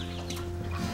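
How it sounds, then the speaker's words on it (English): A hen clucks close by alongside her chick, giving short soft clucks with faint high peeps mixed in over a brief moment, fairly loud and alone without talk. "Like the chicken with her chick"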